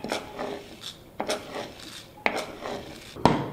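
Roasted lentils are tipped from a pan into a bowl, with a few sharp metallic scrapes and clinks, some dry rattling between them, close and fairly quiet.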